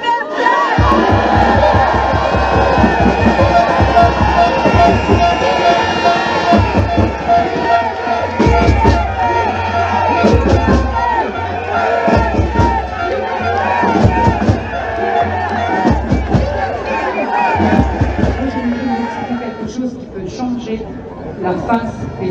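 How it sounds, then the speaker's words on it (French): At a political rally in Mulhouse, a large outdoor crowd chants together loudly and repeatedly, a dense rhythmic roar of many voices punctuated by cheers and shouting that carries on for the whole stretch. "j'aimerais vous entendre crier très fort, tous ensemble, pour les libertés"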